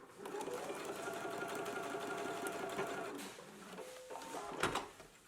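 A home sewing machine stitches a straight line across a garment facing at a 5/8 inch seam allowance, a fast, even mechanical whir running steadily and close, ending with a few brief clicks and handling knocks.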